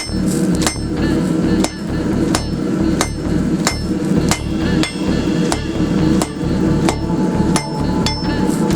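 Repeated hammer blows forging a taper on the tip of 3/8-inch steel stock for a pipe tamper, loud sharp metallic strikes landing in a steady rhythm about once every half second, with ringing between blows and no talk.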